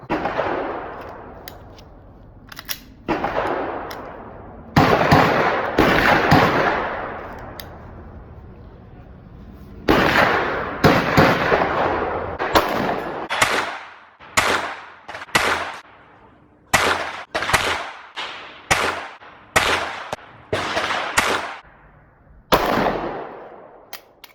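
Slow-fire handgun shots at an outdoor range from 25 yards: a long series of sharp, loud cracks with brief decays, irregularly spaced and coming faster toward the end.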